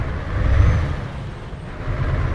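A Mercedes bus in Euro Truck Simulator 2 releases a short, soft hiss of air brake over a steady low engine idle, with no voices.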